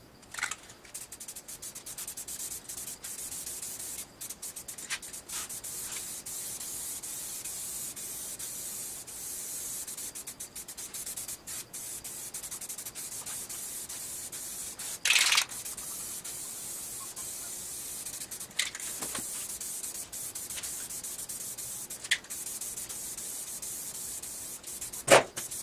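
Aerosol can spray-painting a 2010 Ford Expedition bumper, a faint, steady hiss of long passes broken by a few short louder bursts and brief pauses, close up and without talk.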